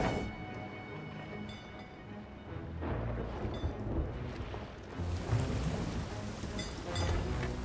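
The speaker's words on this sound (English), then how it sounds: "We got a storm in here too." Steady rain hisses with low rumbling thunder rolling underneath in Sea of Thieves, the storm swelling louder in the second half.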